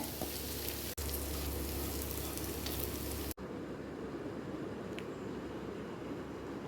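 Pieces of leftover chapati tossed into a pan of frying onions for chapati upma, with a loud, steady sizzle that shifts abruptly partway through and no voices.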